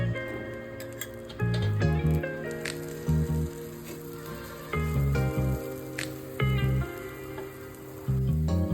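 Oil sizzles and crackles steadily on a hot dosa pan for upma dosa, a dense close frying hiss with low bursts of pan noise, no talking.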